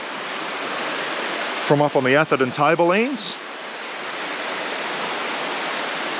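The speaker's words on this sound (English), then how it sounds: "Henrietta Creek running down through" Henrietta Creek on the Atherton Tablelands flows in a steady, full broadband rush that runs through the whole clip, with someone speaking briefly over it near the middle.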